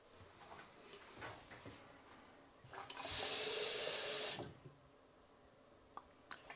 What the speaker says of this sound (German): Nicht so stark das Wasser aufdrehen, weil es schäumt ein bisschen durch das Spülmittel.